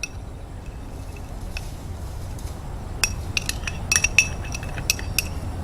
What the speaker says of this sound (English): Now I'm using a heavy mortar for this because they are hard, so you do have to hit them a lot harder.